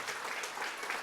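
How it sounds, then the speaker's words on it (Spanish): A church congregation claps in steady, dense applause that holds at an even level throughout the short stretch, with no voices standing out. "Y te damos esos aplausos"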